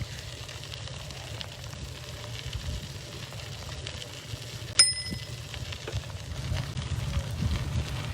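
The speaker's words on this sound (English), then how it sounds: "you can hear they're using their bells to pass pedestrians" A single bicycle bell dings once sharply amid steady outdoor background noise and low rumble, as a cyclist passes pedestrians on a multipurpose trail.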